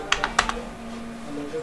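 Typing a search query on a computer keyboard: four crisp, close keystrokes in a short burst at the start, followed by quiet with a low steady hum.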